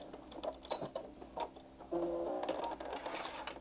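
A sewing machine back stitches across a dish towel topper, giving a close, rhythmic needle clatter in short bursts with brief pauses between runs. No one speaks.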